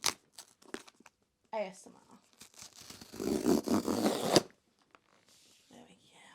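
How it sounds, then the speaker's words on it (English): Cardboard packaging of a beauty subscription box being torn open, a crisp ripping burst with crinkling and tapping around it, close and fairly quiet, with someone speaking briefly in a whisper. "Let's give it a little rip."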